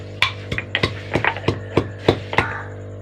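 Fresh green chillies pounded for pazhamkanji, a Kerala fermented rice dish, giving about nine sharp, evenly spaced thuds close up over a steady low hum, with no talking.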